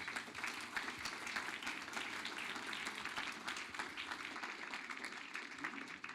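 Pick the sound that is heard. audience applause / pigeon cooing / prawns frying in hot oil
audience applause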